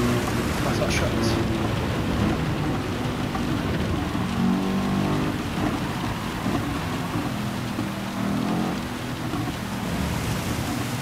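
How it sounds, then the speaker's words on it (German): Heavy rain pours steadily in the Gran Turismo 7 racing game during a Mercedes AMG GT3 '16 race at the Nürburgring Nordschleife, a dense hiss mixed with a low engine drone throughout. "Oh, wie das regnet."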